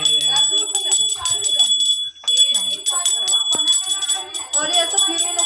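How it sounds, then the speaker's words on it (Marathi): A hand bell rings in rapid, repeated metallic strokes at a Nagpanchami gathering, close and bright, with a short pause midway and people talking over it. "एका घंटा वाजव"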